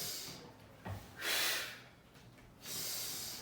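Breathing during a squat exercise: a sharp close inhale through the nose followed by two long, loud exhales, heavy and breathy with no talking.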